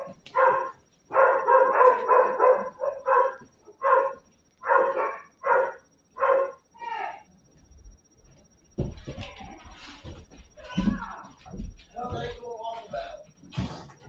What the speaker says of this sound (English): Dogs run all over the place.